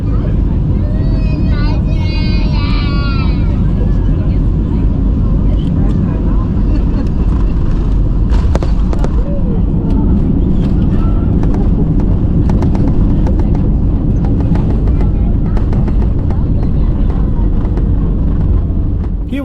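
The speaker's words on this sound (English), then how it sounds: "of course we're gonna see the landing with the original sound" A Condor Airbus A321 lands at Gran Canaria, heard from inside the cabin as a loud, steady engine and airflow roar with rumbles and rattles throughout.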